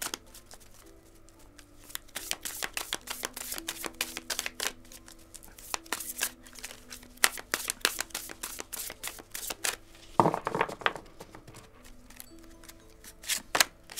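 Tarot cards being shuffled for a reading, a long run of quick papery riffles and flicks at close range with a denser burst near the end, no talking over it.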